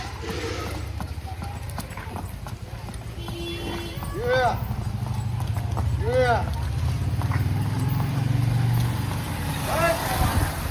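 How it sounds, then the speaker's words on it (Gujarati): A mare's hooves clip-clop as she dances without reins in Surat, the rhythmic hoofbeats close and clear, with voices talking and calling in the background. "આ ઘોડો"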